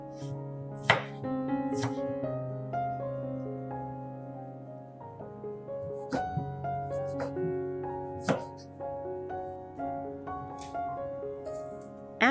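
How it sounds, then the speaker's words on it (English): A knife chopping tomatoes on a cutting board, several crisp chops in an irregular rhythm over soft background music. "After cutting the tomatoes"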